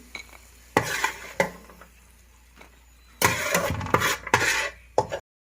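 Vermicelli is stirred and lightly fried in ghee in a pan, with bursts of scraping and clattering from the spoon against the pan separated by quieter pauses.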